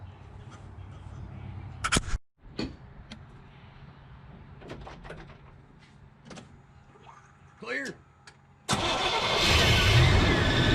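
A Chevrolet engine runs after a thermostat replacement, with clicks and a brief mechanical whir, then a loud steady rumble of the engine revving up near the end, with talk in between.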